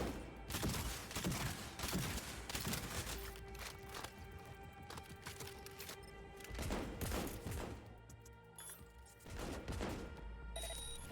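Gunfire in the video game Cyberpunk: repeated sharp shots and bursts in clusters, loud and close, with metallic ringing tones layered between volleys.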